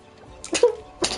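A sneeze in two sharp, breathy bursts about half a second apart, close and fairly loud, heard during a session of the SpongeBob SquarePants: Battle for Bikini Bottom Rehydrated video game.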